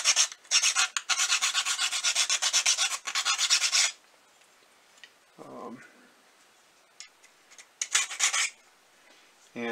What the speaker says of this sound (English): This is a really fine file. I know I'm damaging my board, but that's okay.